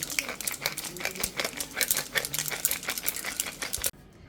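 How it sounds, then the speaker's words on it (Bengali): Black peppercorns being crushed for chicken bhapa give a dense, rapid crackle of small hard cracks and grinding, close and steady, with no talk, stopping abruptly near the end. "এবারে গোলমরিচগুলো ক্রাশ করে দিচ্ছি"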